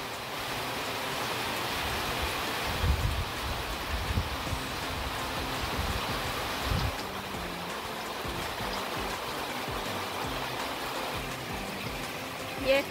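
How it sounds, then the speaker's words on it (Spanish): Rain shower falling on a zinc roof of a house, a steady, even patter with broadband hiss holding at a constant level throughout, close and continuous with a few slightly louder drops. "Aguacerito que está cayendo, por eso les dije que me gusta tener el techo de zinc"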